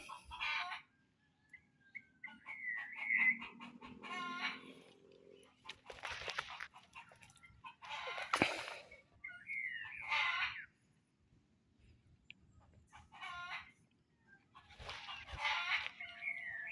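Red junglefowl and domestic chickens, including a rooster, cluck and call in several short bursts outdoors, with quiet gaps between the calls and a faint low background.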